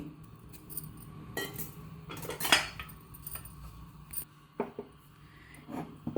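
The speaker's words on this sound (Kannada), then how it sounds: "ಕುಕ್ಕರ್ ಮುಚ್ಚಿ 1 ವಿಷಲ್ ಹಾಕ್ಸ್ಕೊತೀನಿ." A pressure cooker lid is fitted and closed with a series of scattered metallic clinks, taps and scrapes, quiet and close, with short pauses between the contacts.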